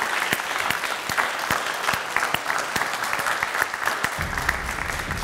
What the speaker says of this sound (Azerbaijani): Teymur Mustafayev qonağımızı ürəkdən alqışlayaq Teymur əmini.